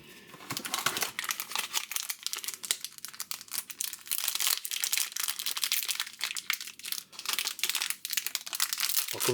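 A Panini Donruss Elite Serie A trading card value pack box being opened, its plastic wrapper crinkling and tearing in dense, continuous close-up rustles with no talking.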